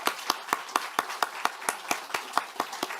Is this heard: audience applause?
yes